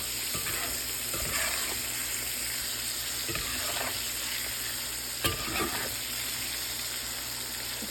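Sliced squash fries in a pan with a steady, close sizzle, broken by occasional clinks and scrapes as the pieces are stirred and turned.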